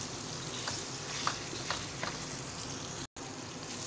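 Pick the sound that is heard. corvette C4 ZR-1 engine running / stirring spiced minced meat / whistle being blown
stirring spiced minced meat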